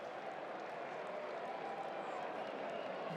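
Cricket crowd roaring and cheering after a big six at a BLACKCAPS match, a steady dense wash of massed voices and some clapping, loud and continuous throughout.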